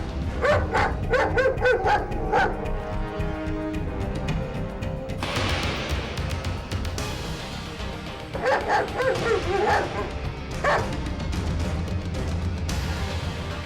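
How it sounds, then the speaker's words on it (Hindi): A dog in an outdoor crime-drama search scene barks and yips in repeated close, loud bursts, with whimpering tones between, over a steady background bed of noise. "देखा, कुत्ता वापस कौरी के अंदर जा रहा है।"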